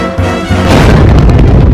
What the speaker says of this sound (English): you want to add an explosion to your action short